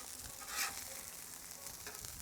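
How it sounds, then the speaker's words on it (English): Bacon cheeseburgers with butter frying on a Blackstone griddle, a quiet, continuous sizzle with a brief scrape as a patty is turned, heard alone. "we're going to give these burgers a quick turn"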